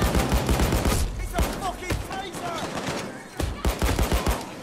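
Rapid automatic gunfire from a Payday 2 heist, dense bursts of shots throughout with brief gaps and some overlapping game noise, a voice faintly under the firing.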